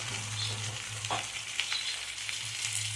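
Spice paste with cumin and chili frying in a pan, a steady close sizzle with the scrape of stirring running throughout, no talk.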